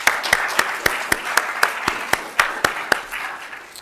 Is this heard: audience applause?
yes